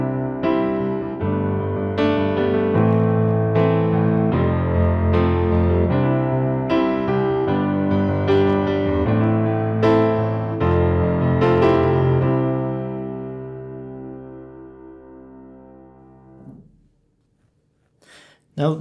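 Piano chords played in a steady rhythm, moving through a simple pop-style progression for about sixteen seconds, then fading out into near silence.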